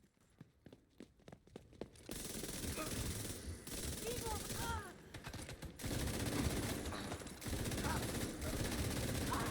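A machine gun fires in the shooter video game The Division 2. Quick rapid bursts of gunfire come first, then a dense, sustained fusillade with sharp pops, all under a voice talking throughout.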